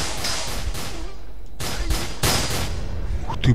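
Gunfire in the video game S.T.A.L.K.E.R. Call of Pripyat, with the SGM 2.1 mod and Misery adaptation: a few sharp, loud shots in quick bursts, with the reports ringing out over a dense background.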